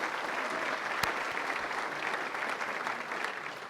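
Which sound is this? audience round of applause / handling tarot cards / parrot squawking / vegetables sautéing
audience round of applause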